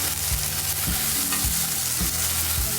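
Cooked tuna and coconut fry in a pan with a loud, steady sizzle as a spoon stirs and scrapes in regular close strokes.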